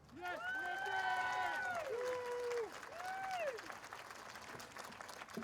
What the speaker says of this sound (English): please give her a warm welcome, Libby Mayfield